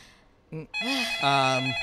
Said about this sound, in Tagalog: pakisagot po muna yung phone kasi nadidistract kami